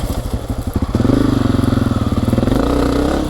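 A Honda CRF250F dirt bike engine pops at a choppy low idle, then snaps up to a loud, steady buzz held against the rev limiter, its rapid pulses stuttering close by for a couple of seconds.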